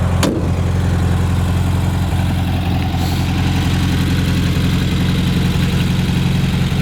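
A 1972 VW Karmann Ghia with an upgraded 1680 engine idles steadily nearby, a continuous low, even rumble with no talk over it.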